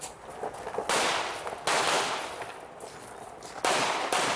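Handguns firing at an IDPA shooting match, a quick string of sharp, loud shots in several bursts, the cracks echoing off the range.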